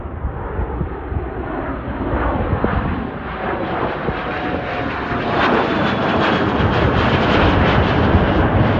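Executive jet engine roaring steadily and loudly throughout, the broadband rumble slowly swelling as the aircraft rolls along the runway at an airport, with no voices over it.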